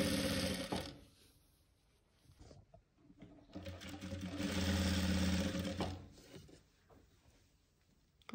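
A sewing machine stitches a fur hoodie in two bursts: a short run at the start, then a longer steady whirring stretch after a quiet pause with light handling noises.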